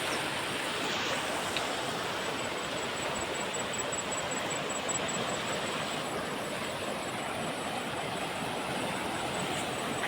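Water flowing through the Paleru canal near closed gates makes a steady, moderately quiet rushing wash with no breaks and no voices, plus a faint thin high whine in the background.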